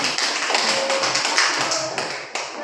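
Applause in a classroom, a steady crackle of many hands clapping together, loud and close, sustained throughout without pause.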